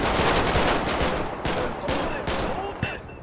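Gunfire during a police confrontation indoors, a rapid burst of loud shots and reports echoing through a building interior, dense and continuous at first then a few separate cracks, with raised voices of officers mixed in.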